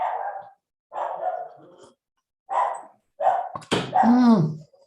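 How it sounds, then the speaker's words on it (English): A dog barks in short, separated bursts during an online council meeting, several sharp barks near the microphone followed by a louder whining yelp at the end. "Your dog says hi too, Sue."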